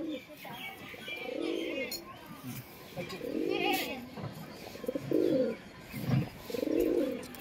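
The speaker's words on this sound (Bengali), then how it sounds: "দেখুন পায়রাটা" A caught pigeon coos nearby in repeated soft, throaty bouts spaced a second or so apart.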